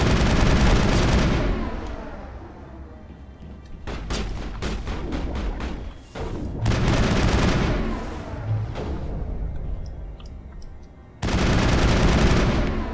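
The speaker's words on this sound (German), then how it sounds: "Garrus, du wirst beschossen." Gunfire in the video game Mass Effect, with several loud bursts of rapid shots separated by quieter pauses filled with ambient rumble.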